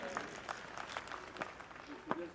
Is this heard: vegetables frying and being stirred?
no